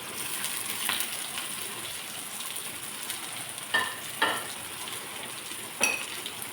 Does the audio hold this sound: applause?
no